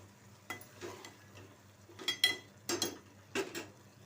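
Curry cooking in a pot and being stirred, with a handful of sharp scraping clinks of a spoon against the metal, spaced irregularly over a faint background bubble.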